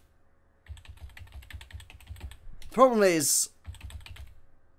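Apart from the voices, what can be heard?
typing on a Mac computer keyboard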